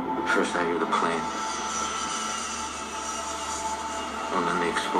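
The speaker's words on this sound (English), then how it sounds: "First I hear the plane." An airplane flies overhead as a film sound effect, a broad steady roar that fills the scene while a voice talks over it throughout.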